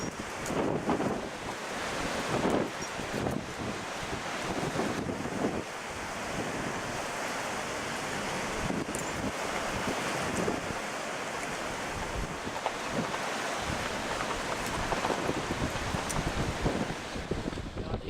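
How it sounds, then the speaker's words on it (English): Strong gale wind buffeting the microphone at the top of a cold climbing pitch, a continuous roaring rush with loud gusty surges throughout and no other sounds standing out. "It's freezing, it's blowing a gale,"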